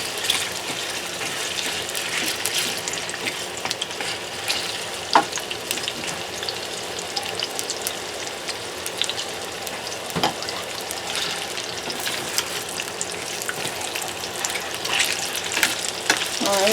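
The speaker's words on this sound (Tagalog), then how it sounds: "Ito, ipirito natin ang patatas, antayin natin ng konti na mag-brown." Potato pieces fry in oil in a pan, giving a steady close sizzle that runs throughout, with occasional clicks and a couple of brief louder knocks.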